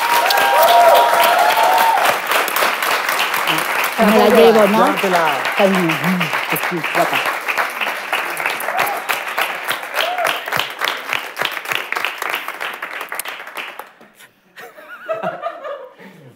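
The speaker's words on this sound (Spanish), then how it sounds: "Y con el aplauso que le deis a la yaya" A studio audience applauds at length with mixed laughter and chuckles, loud and continuous before tapering off, and someone speaks briefly near the end.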